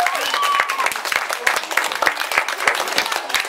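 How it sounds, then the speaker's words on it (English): An audience of students and adults at a school talent show applauds a teacher, with steady close clapping and a few faint shouts over it. "Let's give Liana Hanum another big round of applause"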